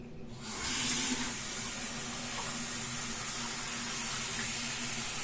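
Cold water from a tap hisses and splashes steadily over freshly churned homemade butter in a sink, rinsing it, starting abruptly and running on close by without talk.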